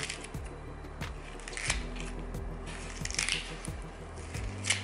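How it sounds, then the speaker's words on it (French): Repeated snips of scissors cutting out an artichoke heart, a series of short crisp clicks with soft squishy, wet sounds between them. "Puis ensuite, j'enlève le cœur avec des ciseaux."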